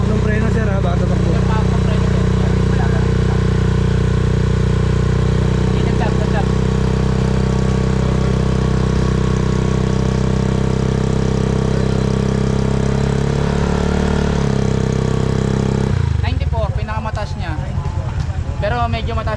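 A motorcycle fitted with an aftermarket exhaust idles in a loud, steady, close throb for about sixteen seconds, then cuts out and gives way to nearby voices.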